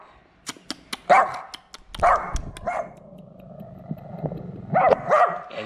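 A feisty dog in Vietnam barks sharply several times at close range, with yips and whimpering growls between the bursts and no talk over it.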